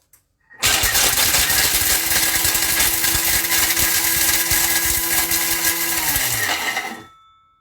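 A kitchen food processor at speed 10 while making a chocolate hazelnut entremet: the motor kicks in with a loud, steady, gritty whir for about five seconds, then winds down to a stop.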